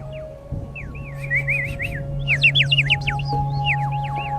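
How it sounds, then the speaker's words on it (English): A front ensemble plays a bird whistle, producing warbling, trilling chirps that rise and fall in quick bursts over a steady low hum, fairly close and clear. "Oh, it's a bird whistle."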